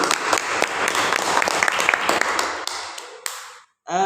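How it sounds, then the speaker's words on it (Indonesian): Audience clapping after a group presentation at an event, a dense burst of many hands with sharp individual claps standing out, fading quickly and ending abruptly near the close. "Beri aplaus dulu."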